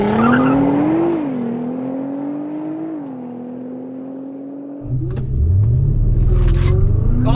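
Nissan GTR with 666 bhp and Audi RS6 with 700 bhp launch side by side in a drag race: a loud rising engine drone, followed near the end by a sudden louder surge of revs, tire roar and rumble.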